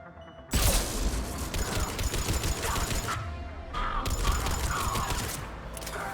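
Continuous video-game gunfire in Mass Effect 3, a dense, loud crackle of rapid shots that drops out briefly midway and then resumes, steady and close throughout.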